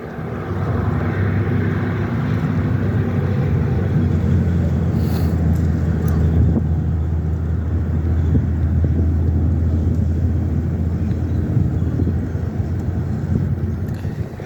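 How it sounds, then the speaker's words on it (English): Noisy trucks pass by with a deep, droning engine rumble. It holds loud and steady throughout, with a faint higher hiss above and a slight easing near the end. "Noisy trucks!"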